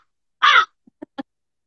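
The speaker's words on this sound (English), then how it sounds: "just call on the crows." A crow sound effect triggered by a button: one loud, harsh caw followed by a few short, fainter caw-like calls, isolated against silence.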